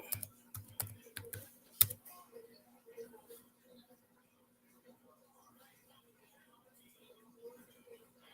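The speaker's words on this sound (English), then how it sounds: "Type something here right quick." Rapid clicking keystrokes on a computer keyboard in a short burst with one sharp louder tap, then fading to faint scattered ticks under a low steady hum.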